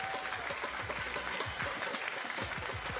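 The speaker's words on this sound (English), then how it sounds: "Give him a round of applause." An audience claps steadily in dense, even applause to welcome boxer Junior Farr onto a stage at a GT Sport championship event.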